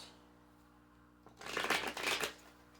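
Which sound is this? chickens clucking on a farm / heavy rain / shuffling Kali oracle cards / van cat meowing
shuffling Kali oracle cards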